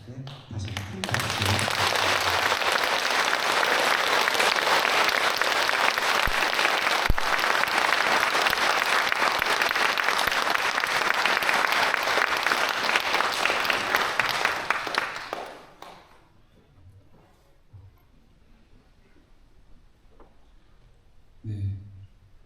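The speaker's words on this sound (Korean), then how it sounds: "다시 큰 박수." A congregation in a Catholic church gives long, loud, steady applause during a Lenten retreat gathering. The dense clapping lasts about fifteen seconds, then stops abruptly and leaves a quiet room with a brief sound near the end.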